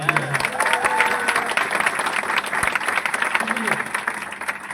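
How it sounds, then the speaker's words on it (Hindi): A live audience at a motivational talk bursts into sustained applause, dense steady clapping filling the room with crowd murmur and a few voices mixed in. "ताली बजा लो एक बार"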